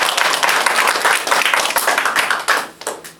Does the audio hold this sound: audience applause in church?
yes